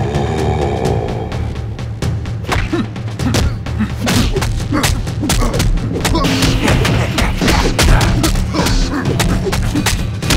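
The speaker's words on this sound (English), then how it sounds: "Shooting people with ray guns" Sci-fi ray guns fire at people in rapid volleys of sharp zaps and thuds, many quick bursts tumbling over each other, loud and close, with voices faintly mixed underneath.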